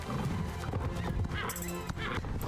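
Horse hooves clip-clopping at a gallop in the video game Star Stable Online, mixed with whinnies and game sounds, steady and fairly loud throughout.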